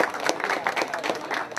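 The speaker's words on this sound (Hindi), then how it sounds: "जोरदार तालियां यार" Brief, lively applause from an audience at a Children's Day event for a young school participant, quick dense clapping at close range throughout.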